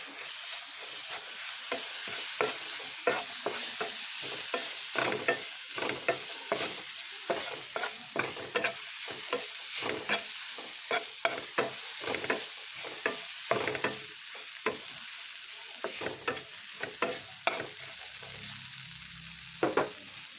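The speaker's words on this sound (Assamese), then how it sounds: "এতিয়া মোৰ অকণমান আদা, নহৰু আৰু জলকীয়াৰ পেষ্ট দি দিছোঁ।" Ginger, garlic and chili paste frying in a pan, giving a steady loud sizzle for the whole stretch, broken by frequent stirring scrapes and clatter, with no voices.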